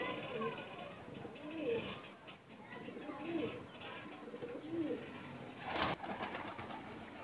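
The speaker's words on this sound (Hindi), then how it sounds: "साथ आगे एक और फिरोजपुरी कबूतर बैठा हुआ" Ferozpuri pigeons coo softly in a loft full of young birds, low throaty rolling calls that repeat over a steady background hum, with a brief louder rustle near the end.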